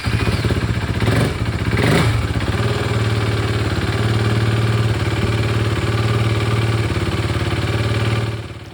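A KTM motorcycle single-cylinder engine, newly fitted with a replacement fuel pump after sitting three years, cranks and catches, gives a couple of quick revs, then settles into a loud, close, steady idle before cutting off.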